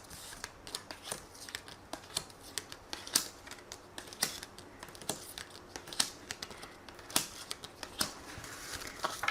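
Tarot cards are shuffled and drawn, giving soft, quiet, irregular papery flicks and snaps, some sharp clicks standing out in an uneven rhythm, with no talking.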